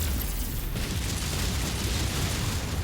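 A deep, rumbling explosion from a tank being destroyed in MechWarrior 5 roars in a sustained low blast that fills the whole moment.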